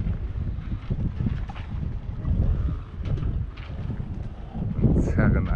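Strong wind at a marina buffets the microphone in steady gusts, with a low rumble and faint creaks and knocks from boats rocking and tugging at their lines during extreme high water.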